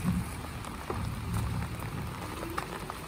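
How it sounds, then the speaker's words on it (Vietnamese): Heavy rain patters continuously on a house construction site, a dense fairly quiet hiss with scattered sharper drops and a faint low rumble. "Đấy, mưa khá là to các bạn."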